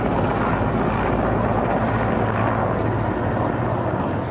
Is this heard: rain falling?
no